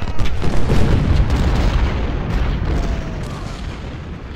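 Booming artillery fire from the Civil War strategy game Ultimate General: Civil War, a dense rolling barrage of low cannon blasts that is loudest at the start and slowly fades, with no voice over it.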